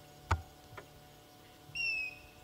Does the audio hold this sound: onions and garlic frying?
no